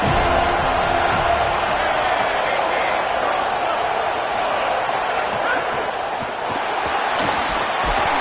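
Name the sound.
football stadium crowd noise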